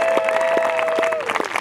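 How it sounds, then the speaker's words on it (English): An audience claps for a town band concert, a brief burst of steady applause with a crowd murmur and a sustained tone under it. "how about one more round of applause for the Harwich Town Band?"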